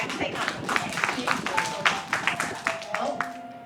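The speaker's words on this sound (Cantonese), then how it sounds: "我哋俾掌聲啊！" Audience clapping and cheering at a church celebration gathering, a steady patter of hand claps with some louder bursts, over a crowd and speech in the background.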